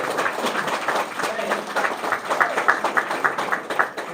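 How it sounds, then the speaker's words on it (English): Audience at a congressional briefing on Black men and boys in medicine breaks into rhythmic clapping, a room-filling round of applause that builds and stays steady, with scattered individual claps standing out. "Just want to give them a round of applause because he's doing so well."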